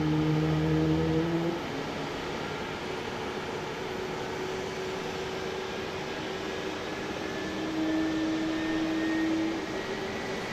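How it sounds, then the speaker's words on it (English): Aircraft engines run up steadily for testing at Dallas Love Field airport at night, a sustained broadband roar with droning tones heard from a distance above the apron, alone without talk. "Sounds like they're doing some engine testing perhaps down there below us."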